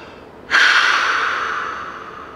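A single strong exhale through the mouth or nose, releasing about half a breath as the start of an equalizing endurance drill for freediving; it begins sharply, holds as a breathy rush and slowly tapers.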